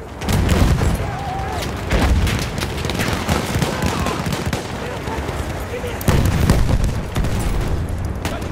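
Rapid machine gun fire in a Battlefield 1 battle, sustained bursts with heavy booms mixed through a dense, loud wartime din; a voice shouts over the chaos.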